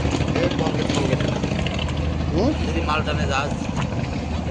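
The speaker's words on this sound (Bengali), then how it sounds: "বড় জাহাজ" A big ship's engine on the Buriganga river drones continuously at a loud, steady level, with river ambience and people talking over it.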